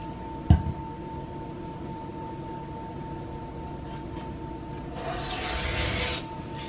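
A knife slides across the finer side of an oiled sharpening stone in a smooth, quiet rasp, steady and close. One sharp knock comes near the start, and a louder, hissing stroke follows near the end.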